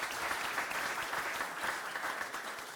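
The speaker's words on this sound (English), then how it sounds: "she needs a round of applause now" An audience at a London community event claps steadily, a dense, even wash of applause that holds at one level throughout with no talk.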